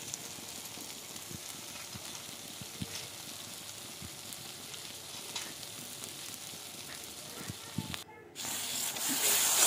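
Yogurt poured into spiced masala already frying for a Bengali rui fish curry, giving a steady close sizzle with stirring clicks and a louder rush of spitting near the end.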